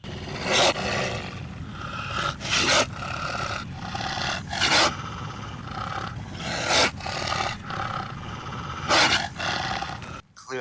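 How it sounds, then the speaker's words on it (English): A fierce creature, the Dwairfataur, snarls and roars in repeated harsh bursts, a guttural growling bellow that keeps coming back over a low rumbling bed, loud and close, with no voice over it. "The Dwairfataur crept towards Ulterion,"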